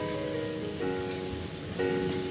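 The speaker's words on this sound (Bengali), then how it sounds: "আলুগুলো এইভাবে ভেজে নেবেন" Whole small potatoes fry in a pan of hot oil, giving a steady, close, dense crackling sizzle that stays constant throughout, with no voices.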